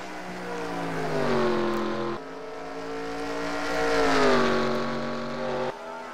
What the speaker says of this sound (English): Good run for Smallwood in that 99 car.